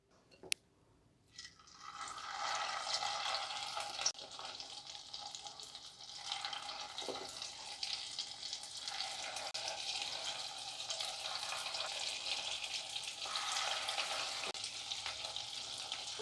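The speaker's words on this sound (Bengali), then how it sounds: "আমি তেল দিয়েছি কড়াইতে, তেল গরম হয়ে গেছে।" Rice pakoras drop into hot oil in a wok and fry with a loud, dense, steady bubbling sizzle that starts after a couple of seconds of near quiet and holds to the end, with no talk.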